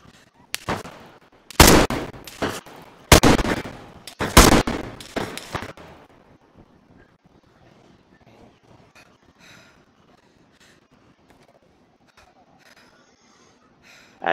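Loud gunshots in the DayZ video game, a handful of sharp, close reports in the first few seconds, then quieter faint game ambience.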